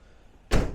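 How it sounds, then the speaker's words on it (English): A rear door on a 2022 Ram ProMaster wheelchair-ramp van shuts with a single loud, close thud, then a short dull rumble tails off after a quiet lead-in. "And then once you close the doors,"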